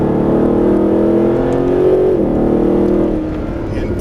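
Mercedes SLS AMG engine pulling hard on throttle around a cone course, a loud sustained close-up roar with a steady droning tone that shifts pitch midway, then eases slightly toward the end.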